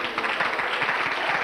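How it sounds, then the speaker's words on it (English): An audience applauds an engaged couple, Lisa and Joe, at their engagement party, a dense burst of clapping close by. "big round of applause for Lisa&joe"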